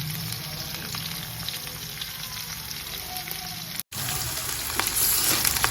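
Ground green chilli and onion frying in a pan for methi bhaji, a steady close sizzle that continues evenly, broken by a brief dropout and then slightly louder crackling.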